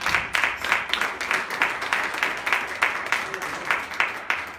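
Congregation in a church applauding together, a steady dense patter of many hands clapping at moderate distance, fairly even throughout with slight rhythmic pulses.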